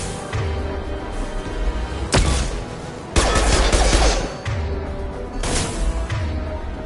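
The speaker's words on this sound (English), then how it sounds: "Taking heavy fire!" Heavy gunfire in the Mass Effect 2 video game: dense bursts of rapid shots and loud blasts, with sharp impacts around two and three seconds, continuing intermittently at close range.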